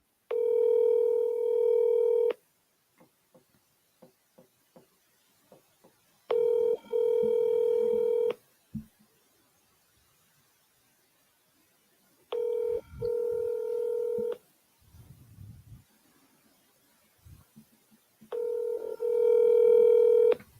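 Repeated bursts of telephone dial tone alternate with quick touch-tone dialing beeps while a call is placed to a property seller; steady tonal stretches recur about every six seconds, with a few faint low sounds in the gaps.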